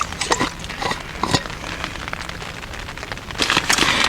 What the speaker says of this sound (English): You hear the little pitter-patter of the rain on the tarp?